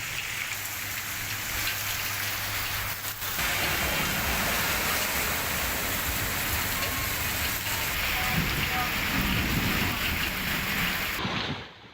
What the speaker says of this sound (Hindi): झमाझम बारिश ज़रूर हो रही है